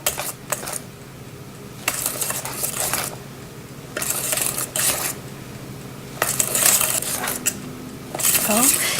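Hotcake mix batter whisked in a bowl: bursts of quick scraping and clinking against the bowl, alternating with short quiet pauses, close and fairly loud.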